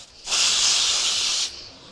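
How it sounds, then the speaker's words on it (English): Edible luster spray from a can misted onto a chocolate shoe, one steady hissing burst of about a second, close and clear, with quiet before and after. "This is an edible luster spray."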